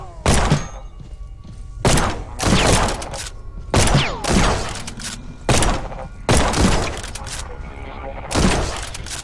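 Rifle shots in The Pit Infinity, a series of loud, sharp reports spaced roughly a second or two apart, each with a short echoing tail.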